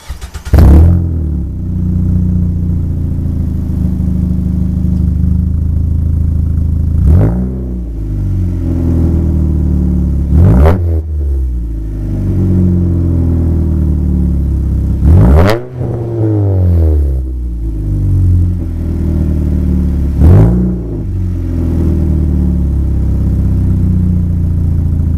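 A 2010 Ford Fusion 2.5L four-cylinder with a Y-pipe split, no mufflers and two resonators idles with a loud, deep drone, punctuated by about five sharp revs that flare and fall back, close and alone.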